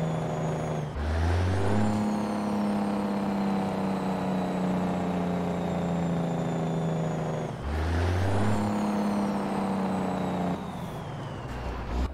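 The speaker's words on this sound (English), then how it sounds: "Here's a listen to the Jake brake for all you Jake brake lovers out there." A truck's Jake brake in American Truck Simulator, a loud, close, steady engine drone with a deep rattling bark that holds for several seconds, cuts out briefly and then kicks back in for a second long stretch.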